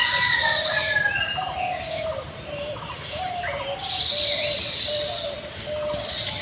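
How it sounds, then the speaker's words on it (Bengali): Soft cooing from a pair of doves calling from two sides repeats over several seconds, mixed with chirping birds and a constant insect drone in a quiet morning setting. "দুইটা ঘুঘু দুই পাশে ডাকতেছে"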